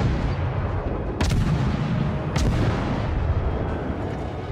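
Two heavy naval cannon salvos from World of Warships, each a sharp deep boom roughly a second apart from the next, over a constant low rumble of ship and ocean ambience.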